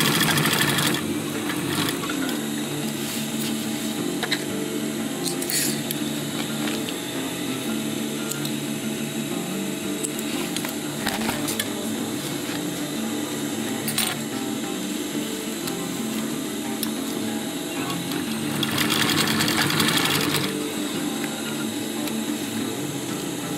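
Sewing machine running over a folded Z-shaped seam on a fabric chest pouch, a continuous close mechanical whir with occasional sharper clicks and brief louder bursts.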